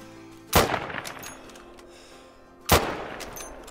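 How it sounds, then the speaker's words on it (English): Two loud rifle shots ring out about two seconds apart at a blacktail buck during an outdoor hunt. Each crack is sharp and close, with a trailing echo that fades in between. "And we'll go for a shot."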